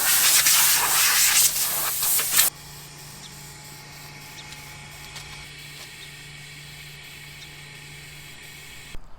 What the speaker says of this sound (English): Let's paint the radiator.